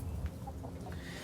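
Faint, soft chicken clucks sound close by, a few short low calls over a quiet background with no talking.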